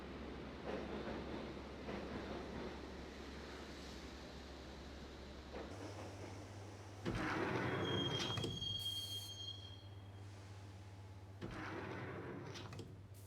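A subway train rides through the Max Payne video game with a steady low rumble of wheels and carriage, then a rising screech of squealing metal and rattling as the ride goes on, with no voices.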